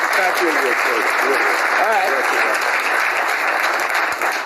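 A studio audience at a late-night talk show applauds loudly and continuously, with voices and whoops faintly mixed into the dense clapping throughout.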